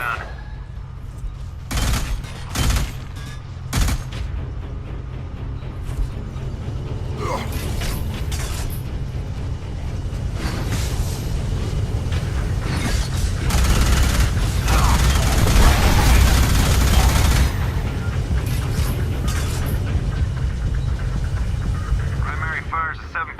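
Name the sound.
minigun turret gunfire in video game Alien Rage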